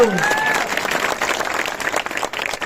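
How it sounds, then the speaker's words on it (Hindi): Crowd at a Solapur election rally applauding, a short burst of scattered clapping and crowd noise mixed with voices. "अरे जरा तालियां तो बजाओ"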